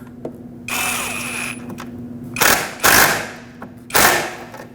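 A parking brake cable bracket bolt is fastened on a Ford Escape: several short bursts of close mechanical clatter and tool whirring, separated by quieter gaps and a low steady hum.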